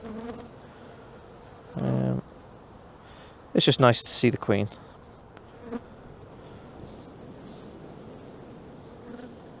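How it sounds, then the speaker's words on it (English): Honeybees buzz steadily around an opened hive during a spring inspection after winter, a constant low drone close by, while a person talks in short bursts over it. "I'm looking at the bees now."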